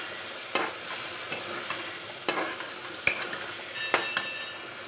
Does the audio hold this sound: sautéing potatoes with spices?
yes